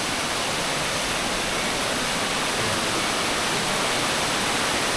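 Ubot Falls in Maria Aurora, Aurora pours in a steady, dense roar of falling water, loud and close, unbroken for the whole stretch, with no voices.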